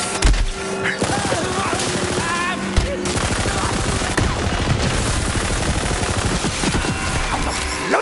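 Rapid automatic gunfire from the Borderlands video game on PS5, dense and loud bursts of shots rattling continuously for the whole stretch with a few heavier cracks mixed in.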